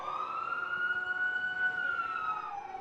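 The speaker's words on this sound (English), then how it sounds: "suddenly they heard sirens wailing outside" Fire truck sirens wail outside, a steady rising and falling tone that holds at moderate distance for a few seconds, with faint traffic rumble underneath.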